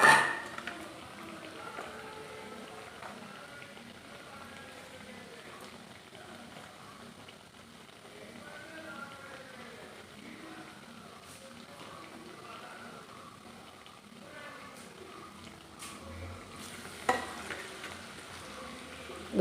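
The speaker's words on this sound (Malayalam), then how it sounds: "ഇതൊന്ന് വറുത്ത് കോരിയെടുക്കും." Chicken rolls deep-frying in hot oil on a medium flame, six at a time, give a steady, dense crackling sizzle that runs evenly throughout, with a few louder pops and spatters near the end.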